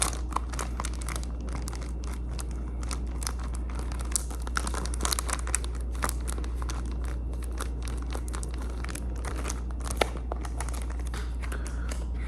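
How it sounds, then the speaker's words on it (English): Plastic packaging around a Radiant Black comic book being crinkled and handled close up, a steady run of soft crackles and rustles with occasional sharper snaps, alone with no voices. "I actually have this still in the packaging. Gonna make some noises with it."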